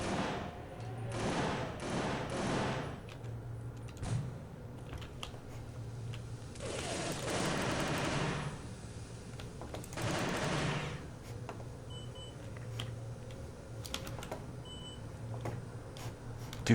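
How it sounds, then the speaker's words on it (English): Video game gunfire comes in several loud bursts of rapid shots separated by quieter stretches, along with a few scattered pops and faint beeps. "There's a man shooting at me and I lost track of him."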